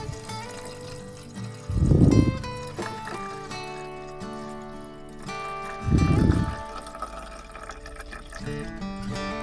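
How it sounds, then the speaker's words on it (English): Water poured from one container into another to separate the clean upper part from the dirty sewage-like sediment at the bottom, heard as two separate loud splashing pours of about a second each, with background noise between them. "now I'm gonna transfer the clean part of the water, separating it so that I can only be left with the bottom dirty part of this water"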